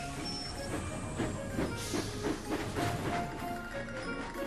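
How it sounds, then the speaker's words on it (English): A cartoon steam engine puffs into a steamworks, with faint rhythmic chuffing and soft hissing over a low rumble. "Edward puffed into the steamworks. Charlie chuffed close behind."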